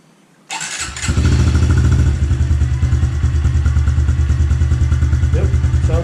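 A 2021 Honda CRF110F dirt bike engine cranks and catches after a brief quiet moment, then settles into a loud, steady, close-up idle with a rapid even putter; a voice is heard during the start.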